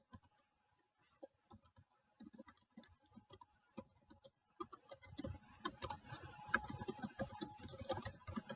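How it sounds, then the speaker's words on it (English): Computer keyboard typing while entering a patient portal message: quiet, scattered key clicks at first, then a faster, denser burst of keystrokes, close by and with no talking. "type in my subject"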